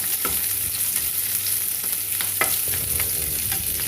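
Sliced onions fry in a pan with ginger, garlic and mushrooms, giving a constant close sizzle broken by a few sharp stirring scrapes and clinks, with no talking.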